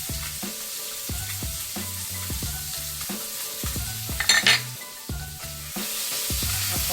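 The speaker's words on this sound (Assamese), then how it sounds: "অকণমান মাছকেইটা ভাজি লৈছোঁ।" Small pieces of fish fry in hot oil with turmeric and ginger, a steady close sizzle broken by the clatter of a utensil scraping and stirring in the pan, with no voices.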